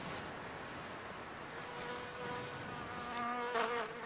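A bee buzz-pollinating a flower, vibrating at a set pitch so the flower releases its pollen: a steady, close insect drone that swells into a louder, higher-pitched buzz near the end, with no voices.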